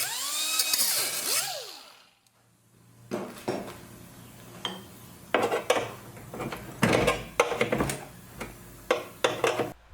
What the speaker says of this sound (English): I'm just going to go grab the tool again, the angle cutoff tool here